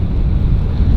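A roaring mountain creek rushes beneath a bridge on a Colorado wilderness hike, a dense, steady, loud wash of water noise with no voices.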